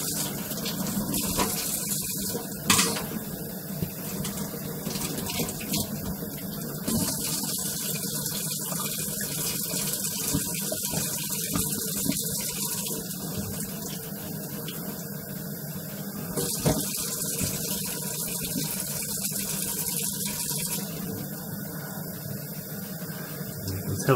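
Tap water runs steadily over glass bottles being rinsed and washed at a sink, a continuous splashing wash with occasional clinks and shifts in flow throughout.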